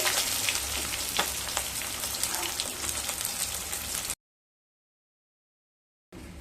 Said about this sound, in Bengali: এইভাবে সমস্ত মাছগুলোকে ভেজে নেব